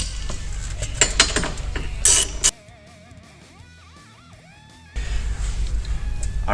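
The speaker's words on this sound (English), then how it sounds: "Next, we'll go ahead and tighten down our nuts, and again, that's a 3/4 inch." A ratchet clicks in rapid bursts while 3/4-inch nuts are tightened on an off-road rock slider for a Polaris RZR 900 and 1000S, XP and Turbo. The clicking is close and busy, stops for a short quiet stretch, then returns.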